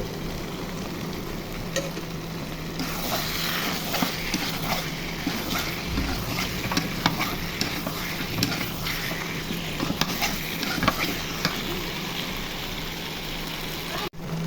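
Broiler chicken bhuna frying in a pan with spices such as cardamom and pepper, a steady close sizzle running throughout beneath frequent stirring scrapes, while a voice talks over it.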